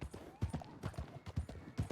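Horse hooves clip-clop in the Western video game Red Dead RP, a steady, fairly quiet rhythmic patter of hoofbeats on hard ground.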